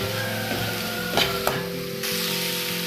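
Onions and green chillies sizzle and fry steadily in a pan, a continuous close crackle with a couple of brief clinks from stirring partway through.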